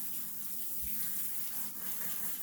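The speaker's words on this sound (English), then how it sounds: "Turn on the water." Water runs steadily from a tap into a bathtub during a dog's bath, a continuous close hiss and splash filling the whole stretch with no talk.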